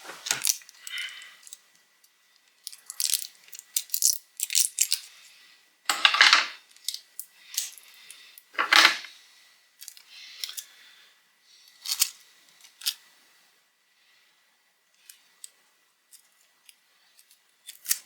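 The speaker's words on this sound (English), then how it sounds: "That's like my little scissors." Small scissors snip while a Nintendo Switch modchip is installed, producing many short, crisp, close clicks and cuts in irregular bursts with brief silent gaps.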